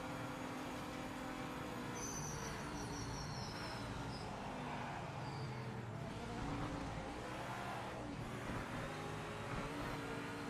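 Engines of race cars in the video game Project Motor Racing, including a Camaro and an RX-7, a continuous droning roar with shifting pitch as cars run together at steady loudness.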